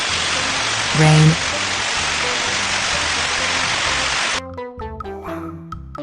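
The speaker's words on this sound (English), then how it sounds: "Rain." Steady rain hisses on a surface for about four seconds, loud and continuous, before it cuts off abruptly. A voice then follows in a quieter space.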